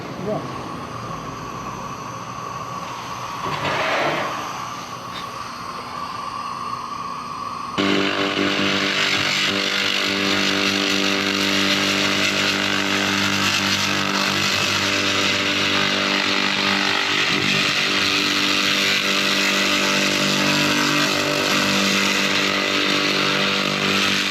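High-power laser cleaning machine stripping paint, rust and heavy scale around a weld on metal, a loud steady hiss-roar that jumps up after a quieter start and then holds continuously to the end, close by.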